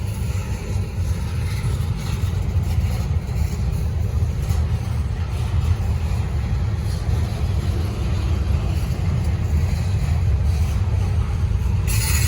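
A Norfolk Southern freight train rolls slowly past, its railcars giving a steady low rumble with faint wheel squeal throughout and no talking.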